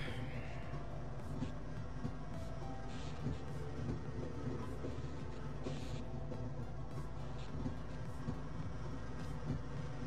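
A tram rolls along in the Half-Life video game with a continuous low rumble and mechanical drone, overlaid by faint repeated clicks and clatter, steady throughout with no talking.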